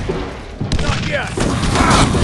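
Video game gunfire crackles in dense bursts amid loud, noisy combat in a flamethrower gameplay session, with voices mixed into the chaos.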